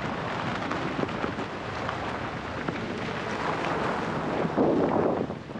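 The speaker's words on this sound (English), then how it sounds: "All right, she's raining now." Rain and gusting wind, around 15 knots, on a small sailing boat at sea during a solo ocean passage, a steady washing hiss with microphone buffeting rising and falling, and no talking.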